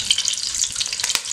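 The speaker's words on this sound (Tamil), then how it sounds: "2 பச்சை மிளகாயை லேசாக கீறிட்டு இதில் தாளிக்கிறதுக்கு போட்டுக்குங்க." Whole spices and slit green chillies frying in hot oil for a biryani tempering, giving a steady close crackling sizzle with small pops throughout, no voices.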